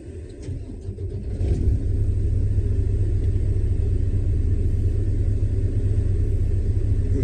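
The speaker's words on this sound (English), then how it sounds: "Okay, now you can hear the truck at it's surging" Detroit Diesel truck engine idling with a steady low rumble that swells and surges, rising in level after the first second and then holding a loud, continuous drone close by.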